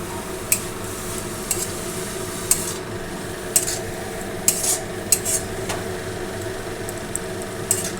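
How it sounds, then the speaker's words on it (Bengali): Grated carrot and beet frying with salt and turmeric in a pan for Bengali vegetable chop, a soft steady sizzle under scattered light metallic scrapes and taps of a spoon being stirred, with no talking. "তারপর আবার নাড়তে হবে।"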